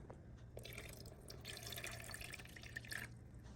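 Water splashes and trickles steadily into a personal evaporative air cooler's tank, a soft continuous pour with faint dripping over a low background hum.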